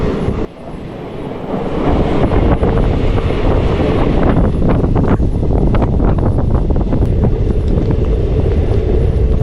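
Passenger train running on rails around a curve, heard from inside a carriage near the middle: a loud continuous rumble with rattling wheel clatter and wind noise that builds after a brief dip near the start.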